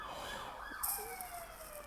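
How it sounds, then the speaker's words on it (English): An ambulance siren passes outdoors, its wailing tone sliding up and down at moderate distance under steady traffic rumble, with no talk. "Apologies for the ambulance you're about to hear go past."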